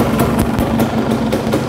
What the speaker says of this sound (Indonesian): ini ada kipas yang sedang berputar ya di dalamnya dan suaranya terdengar dari sini